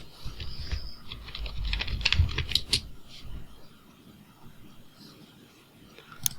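Computer keyboard typing while entering title text in video-editing software, a quick run of soft clicking keystrokes through the first few seconds, then quieter with a sharp click near the end.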